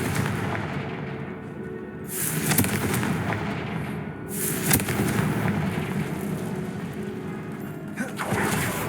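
Bombarda and Confringo spell explosions from the Hogwarts Legacy video game, a few loud booming blasts with crackling bursts over a rumbling game background.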